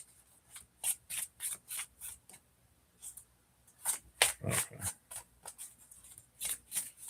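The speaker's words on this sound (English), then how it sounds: "I'm just going to keep shuffling until one comes in." Tarot cards being shuffled by hand, soft repeated riffling and rubbing strokes in short bursts with pauses between, close and quiet, with one brief spoken word.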